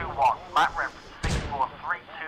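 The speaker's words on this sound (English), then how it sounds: "That's the light artillery, the mortar battery firing." Light mortar battery firing in the Close Combat World War II strategy game, a few short thumps and whooshing shell sounds under a voice talking over them.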